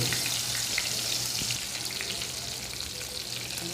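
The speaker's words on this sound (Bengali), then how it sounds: "বেগুন দিয়ে চটপট ভাজা লাগিয়ে নেব।" Eggplant fries in a pan with a steady, even sizzle that holds without a break, fairly close and with no voices over it.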